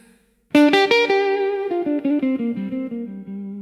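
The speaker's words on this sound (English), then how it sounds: "You hear that guitar crying?" Blues electric guitar from a 1953 recording plays a bright, bending lead lick: a sharp attack after a short silence, then a rapid run of sustained, slightly overdriven notes sliding downward, loud and alone.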